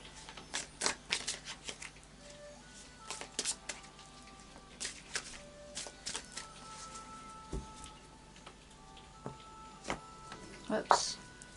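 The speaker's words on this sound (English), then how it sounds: "And then a final shuffle of the Anarchy Tarot." Tarot cards riffle and slide softly in short bursts, with a few light taps and rustles, quiet and close.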